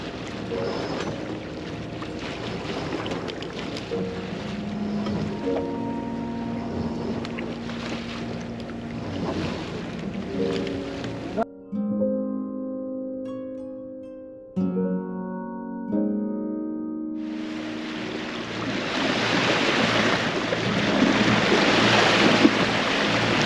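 Sailboat at sea as the Genoa headsail is pulled out: loud wind rush and water noise over the hull, broken midway by a spell of creaking, rattling line and winch sounds before the wind roar returns.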